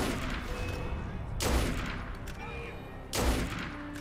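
Continuous rapid gunfire crackles throughout in the video game Assassin's Creed Unity, with two louder pistol shots standing out amid a chaotic battle.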